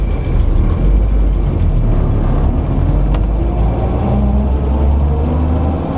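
A 1949 Chevrolet running on a ride, its engine a steady, loud low rumble from inside the car, mixed with wind and road noise and no speech.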